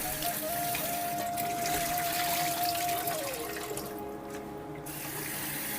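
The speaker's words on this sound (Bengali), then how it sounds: "এখন মাছগুলো একটু ধুয়ে নিই, ধুয়ে পরিষ্কার করে নিই" Fish rinsed under a running kitchen tap, a steady close stream of water splashing into a sink with a faint tonal hum behind it, no voices.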